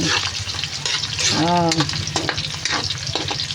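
Onions sizzling and frying in a pan as the first step of Ilonggo-style pancit, a steady loud crackle with occasional stirring and a brief voice over it.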